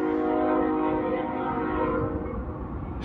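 A BNSF freight train rolls through Sullivan's Curve, its horn sounding loud and steady over the rumble of the train, then easing slightly as it passes.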